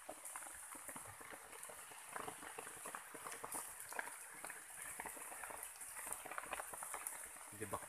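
Light rain patters steadily on foliage in an alang-alang grass forest during a bird-hunting trip, a soft dense crackle of many small drops, faint and continuous throughout.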